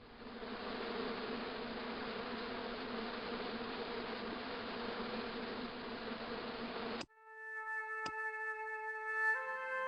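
Hornets buzzing angrily inside a bush in the adventure game Broken Sword 2, a steady dense drone for about seven seconds, then cut off abruptly and replaced by a brief tonal chime and sustained game music tones.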